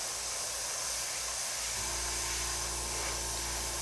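Airbrush spraying paint over a stencil held in place, a steady close hiss of compressed air that thickens and grows louder partway through, with no talking.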